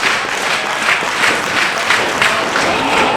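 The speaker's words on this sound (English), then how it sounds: "Doing a slow clap like we're in a romantic comedy or something." A wrestling crowd at a Next Up Pro match gives a slow clap, steady rhythmic claps at roughly three per second, loud and close, over a constant murmur of the audience.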